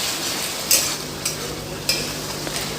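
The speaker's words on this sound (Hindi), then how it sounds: "एकरा ढक के हम मसाला के भुजियो" Masala spices frying and being stirred in a pan for a dry okra curry, a steady close sizzle broken by three sharp scraping stir strokes.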